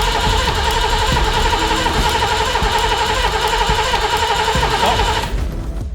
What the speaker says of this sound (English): The TVR was finally turning over, but it now refused to fire up